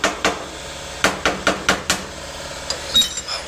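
Welding slag on a heavy trailer fender popping and chipping off under sharp metallic strikes, about six close clinks in a quick irregular series, followed by a couple of fainter knocks.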